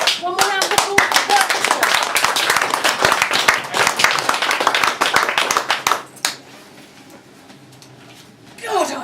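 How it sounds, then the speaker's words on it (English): An audience at a poetry reading breaks into thick, sustained applause that runs for several seconds before cutting off, followed by quieter room tone and a voice returning at the end. "One more round of applause"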